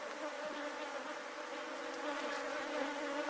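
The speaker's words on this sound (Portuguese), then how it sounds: "As abelhas estão mais agressivas do que o normal, que acabou de dar uma chuva. Tem muitas abelhas campeiras nas caixas." Honey bees swarm densely around hives during colony division just after rain, a loud, steady, continuous buzz filling the air with no pauses.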